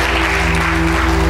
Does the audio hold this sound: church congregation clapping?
yes